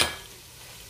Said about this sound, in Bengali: এটাকে এখন আমি ভালো মতো নাড়াচাড়া করব।